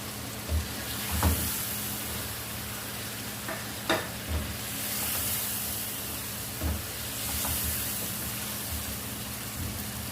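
Masala and fried chicken for biryani sizzling in a pan, a steady hiss with several dull thumps and scrapes as the mixture is stirred.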